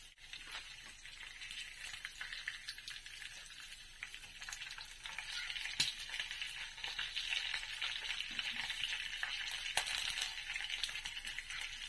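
Rice being fried as sinangag in a pan, a steady close hiss and crackle of sizzling that grows slightly louder, with light scraping and clinks of a utensil stirring through it.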